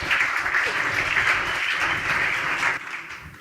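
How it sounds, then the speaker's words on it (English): A room full of people applauds a team presenting their app at a coding bootcamp demo day, steady dense clapping that fades slightly near the end. "Applause for Barter."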